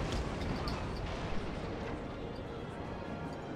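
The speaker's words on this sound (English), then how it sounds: "Got some musket fire going on." Rattling musket volleys from ship crews in a naval battle in Napoleon: Total War, a dense, continuous crackle of overlapping shots held at a steady loud level for several seconds with no talk.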